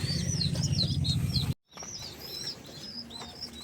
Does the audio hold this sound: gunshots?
no